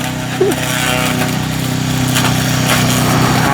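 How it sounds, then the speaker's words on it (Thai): A home-built remote-controlled tracked grass-cutting vehicle runs with a steady droning engine and mechanical whir, loud and continuous, cutting through grass and small trees outdoors. "ผมไม่เรียกมันรถตัดหญ้าหรอก ผมเรียกมันรถถางป่า"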